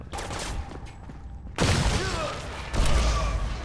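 Crysis Warhead firefight with a grenade blast and bursts of gunfire, a quieter stretch of shots followed by two loud heavy explosive bangs close by, with a voice speaking briefly.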